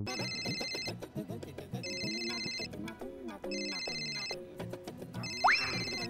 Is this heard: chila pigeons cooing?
no